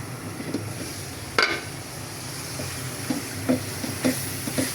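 Spice masala frying and sizzling in a covered pot before fish roe is added, with garam masala in the mix, a soft continuous hiss broken by a sharp clatter and a few light spoon scrapes.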